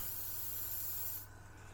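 A steady hiss of spray paint from an airbrush or can onto a masked Revell PBY-5 Catalina scale model, close and continuous, cutting off abruptly near the end.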